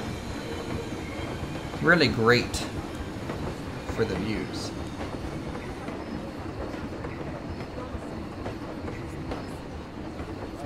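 Train rolling through an alpine-themed theme park in the Planet Coaster video game, a steady rumble of wheels and carriages with a brief squeal near the start, while someone talks over it.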